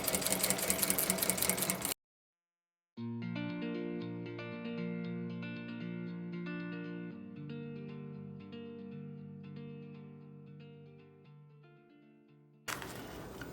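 A sewing machine stitching a seam on a creative sewing project, a steady run of rapid mechanical stitching lasting about ten seconds, set between brief bursts of other sound at start and end.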